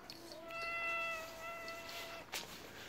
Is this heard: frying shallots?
no